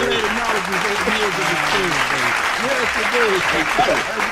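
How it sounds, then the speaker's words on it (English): Steady crowd applause and clapping fill a room with voices cheering and talking over it throughout, dense and fairly loud from start to finish. "Y'all clap it up for Okoye."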